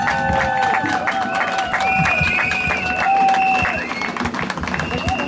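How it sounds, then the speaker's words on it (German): Crowd at an evening event in Karlsruhe applauding and cheering, with clapping under sustained shouts and whistle-like calls from many people, loud and continuous. "Und bitte um einen kräftigen Applaus."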